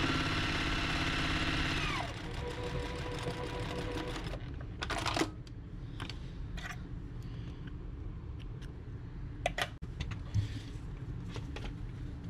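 A sewing machine runs steadily while stitching curved bias binding onto a Double Wedding Ring quilt, a fast, even mechanical whir that stops after a couple of seconds, followed by quiet handling clicks and rustles.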